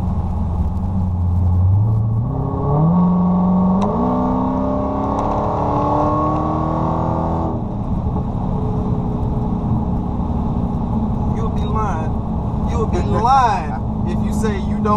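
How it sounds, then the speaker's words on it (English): Dodge Charger Hellcat accelerating hard, its supercharger whine climbing steadily in pitch over a deep engine rumble, loud and close from inside the car, then easing off; voices talk over it. "Don't get addicted to that damn, that supercharger going up like that."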